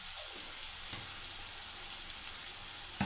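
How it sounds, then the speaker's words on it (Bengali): Suji upma with chili powder, sugar and spices being stirred in a pan, a soft steady hiss of frying and faint scraping, quiet throughout. "ব্যাস, এবারে আমি নাড়তে থাকবে এবারে।"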